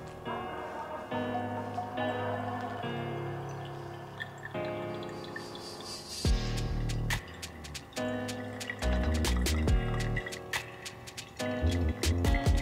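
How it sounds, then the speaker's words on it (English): Water poured from a kettle into metal and ceramic V60 coffee drippers, heard as soft steady trickling and dripping, interrupted by sharp clicking taps later on, quiet and close with no talking. "I'm trying to keep my pour as consistent as possible, so I've got the same amount of agitation in each brews."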